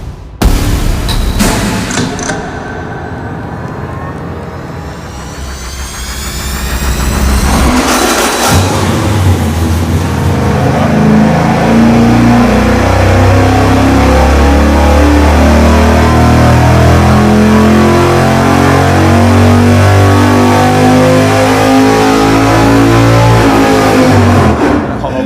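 Engine on a dyno during a test pull with a hydraulic roller camshaft: a brief blip, then a loud sustained full-throttle run climbing steadily in pitch for about fifteen seconds before cutting off, close and powerful.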